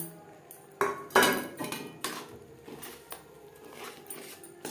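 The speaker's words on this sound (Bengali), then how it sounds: "সুজি বেশ ভালো করে চিনি শিরার সাথে মিক্স করে দেব এইভাবে অনবরত নাতে থাকবো" A utensil stirring fried semolina into sugar syrup in a wok over a low gas flame, giving close metallic scrapes and clinks in an irregular rhythm, with no talk.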